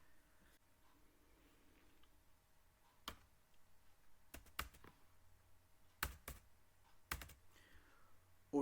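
Someone types a captcha on a computer keyboard. Soft, sparse key clicks fall at uneven intervals, close and quiet, with a few louder taps against a faint background hum.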